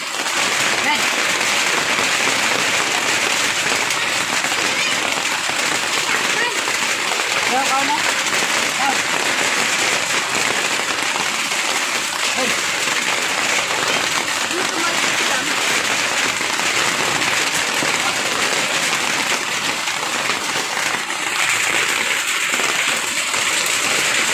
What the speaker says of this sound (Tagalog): Kaya nga yun, ulan pag yun.